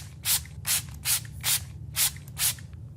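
A spray sound effect hisses in six short, evenly spaced bursts, each a soft airy rush over a low steady background hum, close and fairly loud.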